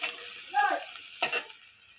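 Chopped onions stirred in a pan, a brief close sizzle with two quick scraping strokes of the spoon over a faint background hiss.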